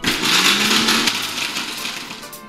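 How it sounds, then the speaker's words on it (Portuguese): A kitchen blender grinds cornstarch biscuits, a loud harsh whir with crunchy crackling that fades into a lighter, steadier spin. "Eu tenho aqui uns biscoitos maizenos que eu simplesmente vou botar eles no liquidificador."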